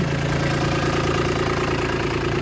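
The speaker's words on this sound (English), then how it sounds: "we got the tractor warming up today." A tractor engine idles steadily up close, a constant low rumbling drone with a faint knocking pulse and no change in pace.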